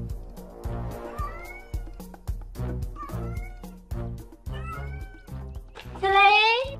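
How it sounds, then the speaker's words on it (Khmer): A cat meows repeatedly, with several drawn-out cries and a louder, higher wail at the end, over a rhythmic low background beat. "មើលទៅចាប់ឆ្មានោះទុកទៅ"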